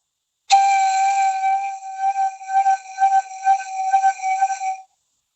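A single sustained instrumental tone played with hand vibrato in eighth notes, two pulses per beat for a four-beat bar, the pitch wavering in regular swells, clear and close with no talk.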